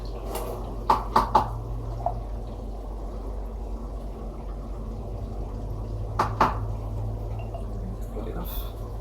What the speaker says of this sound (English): I'm gonna dump in the leftover chicken broth